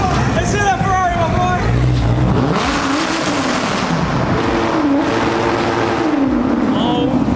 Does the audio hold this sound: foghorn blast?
no